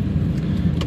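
A steady low rumble of a car moving along the road, heard from inside the cabin, with no voices.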